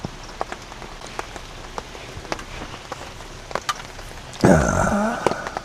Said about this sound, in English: It's drizzling and it's quiet.